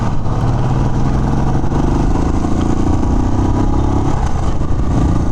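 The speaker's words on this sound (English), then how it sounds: "I'll be going to around 60 kmph and I'll be braking hard." A 2020 Royal Enfield Classic 350 BS6 motorcycle engine drones loud and steady at speed around 60 km/h, its low thumping note easing slightly near the end as the bike brakes hard.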